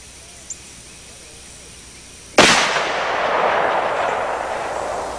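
A single loud, sharp gunshot from a Smith & Wesson 629 .44 Magnum revolver firing Remington 240-grain jacketed hollow points outdoors, a sudden crack followed by a long rolling echo that fades slowly, with a faint click beforehand.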